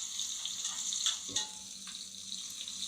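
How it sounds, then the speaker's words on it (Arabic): Two large chopped onions stirred into hot oil in a pan, giving a faint, steady hiss with a few soft clinks and scrapes from stirring, and no voices. "بعد كده بصلتين كبار متقطعين جوانح هنمسكهم بقى نشوحهم تشويحة كويسة كده مع الزيت"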